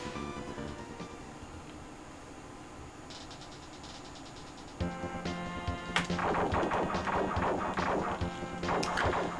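Rapid homing weapon shots in a SNES shooter video game, a bright repeating burst of crashing impacts starting midway and continuing loud over steady game music.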